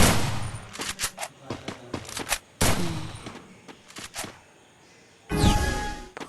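Shotgun fire in a video game battle, several sharp, loud blasts in irregular bursts with brief gaps, ending in a heavier boom.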